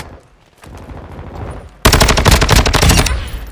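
Automatic rifle fire in Call of Duty: Modern Warfare 2 multiplayer: faint shots at first, then a sudden loud rapid burst of gunfire lasting over a second.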